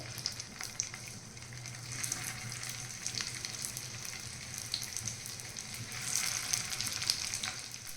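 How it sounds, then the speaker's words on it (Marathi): Crispy vegetable cutlets shallow-frying in oil in a pan, giving a soft, continuous sizzle with faint crackles and small clinks, fairly quiet and steady throughout, swelling slightly near the end. "तर आपण हे पण असेच तळून घ्यायचे"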